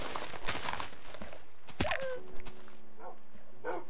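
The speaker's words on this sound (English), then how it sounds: "I have a feeling that was the sound of one of my dogs falling down a long cavern." A dog in the video game Minecraft yelps and whimpers while falling down a cavern in a jungle world, brief sharp cries and thuds over game sounds, fairly faint.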